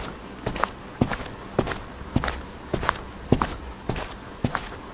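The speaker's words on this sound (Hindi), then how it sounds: "चलने की आवाजें आती हैं।" Footsteps in a Hindi horror story: a steady series of close, regular footfalls, roughly two per second, heard alone without speech.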